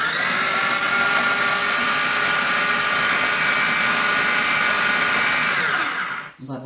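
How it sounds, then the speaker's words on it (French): An electric food chopper whirs steadily as it minces mushrooms and turkey for nems, a loud, continuous motor drone for several seconds before it cuts off. "on les a mis dans le hachoir. On va les hacher, mais pas trop menu non plus"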